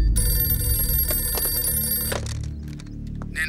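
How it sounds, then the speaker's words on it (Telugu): A telephone rings loudly in a police drama scene, a sustained bright electronic ringing tone that cuts off about two seconds in, followed by low background rumble and faint clatter. "Sir phone."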